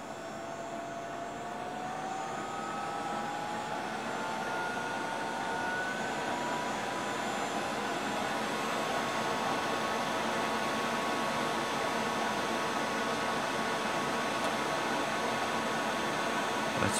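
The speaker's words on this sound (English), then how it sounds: "You may hear the blower kick up." A blower feeds air into a homemade waste oil burner nozzle, producing a steady rushing roar that stays even and slightly builds over time, with no talk.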